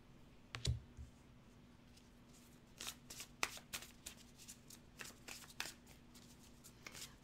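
Tarot cards being shuffled by hand, giving repeated soft riffling clicks and flutters in bursts over several seconds, fairly quiet and close, with no talking.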